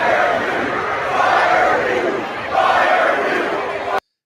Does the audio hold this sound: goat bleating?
no